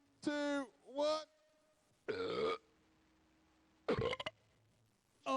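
Loud, drawn-out burps from a contestant in a burping competition, with several gurgling belches in separate bursts and pauses between them, close to the listener in a quiet room.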